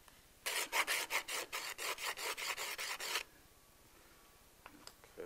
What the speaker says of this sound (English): we take the sandpaper and just round those corners a little bit